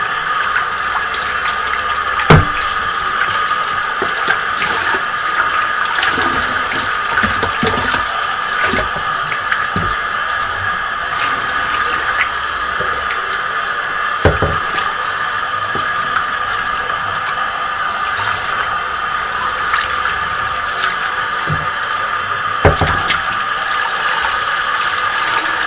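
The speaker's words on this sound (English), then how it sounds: "I'm just going to turn on the water a little bit more" Tap water runs steadily while an Eheim 2213 canister aquarium filter is cleaned at a sink, a continuous hissing splash with occasional knocks and clunks from handling the parts.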